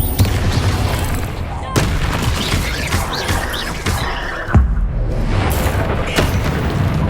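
Confringo fire spells go off in Hogwarts Legacy combat, a series of heavy, booming explosions at irregular intervals over a dense bed of battle noise.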